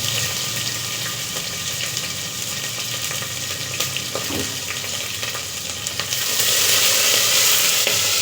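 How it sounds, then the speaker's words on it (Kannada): Chopped onions and green chilies frying in a pan for a hotel-style pulao give a continuous loud sizzle with occasional stirring clinks, and the hiss surges brighter and stronger toward the end. "ಈರುಳ್ಳಿ, ಮೆಣಸಿನ್ಕಾಯಿ ಕಟ್ ಮಾಡ್ಕೊಂಡಿದ್ದೀವಲ್ಲ ಅದನ್ನು ಹಾಕೋಣ"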